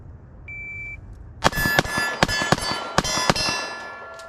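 A Gen 4 Glock 26 pistol fires a quick string of about eight sharp, loud shots at close range on a shooting range, each crack ringing briefly, after a short electronic beep from a timer.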